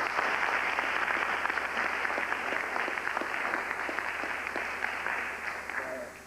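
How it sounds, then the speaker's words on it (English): A crowd at an evening event applauds Brother Sudiata, with a thick, sustained round of many clapping hands that holds steady, then eases slightly toward the end. "Let's bring Brother Sudiata back with a great round of applause."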